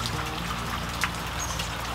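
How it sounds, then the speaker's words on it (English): Steady rain falling outside on a muggy morning, a soft continuous patter and trickle heard at moderate distance, with no voices. "So as you can hear, it is still raining."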